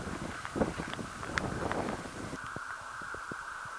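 Wind gusting across an open Scottish hillside on a long-distance walking trail, a continuous breathy rush buffeting the microphone, with faint crunching footsteps and rustle underneath.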